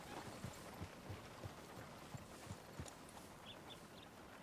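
Horse hooves clip-clop in a steady, evenly spaced rhythm within a video game, moderately close and fairly quiet against a soft continuous background, with no talking over them.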